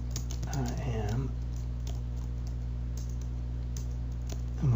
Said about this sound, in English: going to type real fast here